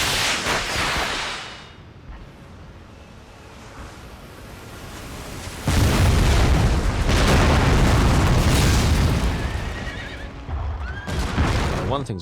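Cavalry horses neigh and whinny in a Napoleon Total War battle, with a loud rumbling surge of hooves, booms and battlefield noise swelling midway and continuing to the end.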